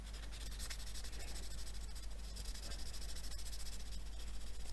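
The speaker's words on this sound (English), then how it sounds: "Try and use a clean piece of sandpaper." Clean sandpaper is rubbed back and forth over a model locomotive chassis frame to take off dried glue, giving a soft close scratchy rasp in steady strokes, with no talking.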